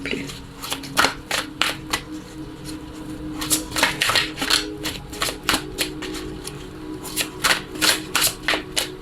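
Tarot cards are shuffled and handled in a steady run of quick, crisp riffling and flicking sounds, close and fairly loud, with brief pauses between bursts.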